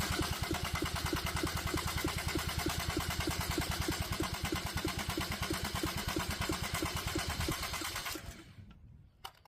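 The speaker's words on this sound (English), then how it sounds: "we can start this tiny engine up" A small Kubota D722 diesel engine chugging in a fast, steady rhythm for several seconds, loud and close, then cutting out and falling quiet.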